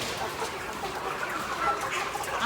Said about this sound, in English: Live chickens, fresh one just coming in.